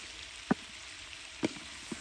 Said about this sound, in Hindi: लहसुन को ऐड कर दिया है। इस तरीके से अब हमने इसकी कर लेनी है भुनाई।